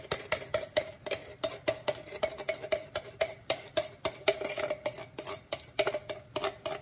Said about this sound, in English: now we're gonna go ahead and add in the crushed tomatoes right to the pot.